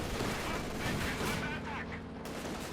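Dense gunfire and artillery rumble from a Company of Heroes 2 battle, with anti-tank guns firing amid constant overlapping shots and booms under a commentator's talk.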